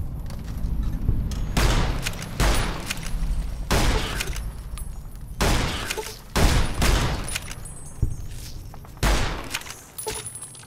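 Cowboy Repeater rifle in Fallout New Vegas firing loud, near shots in irregular bursts, about eight sharp cracks with short gaps between them.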